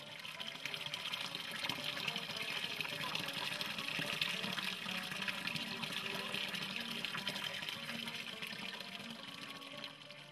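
Water runs continuously from a natural spring into a carved marble bowl in the countryside of Olympos, Karpathos, a soft, steady close-up gurgle with no voices.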